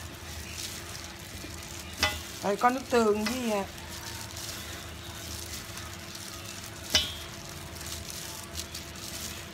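Lemongrass satay pork ribs fry in a pan with a steady, soft sizzle and a few clinks of utensils, while someone speaks over it.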